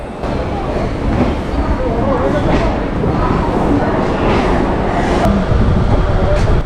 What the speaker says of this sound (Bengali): আর এই দেখুন ট্রেনটা ঠিক সময় ছেড়ে দিয়েছে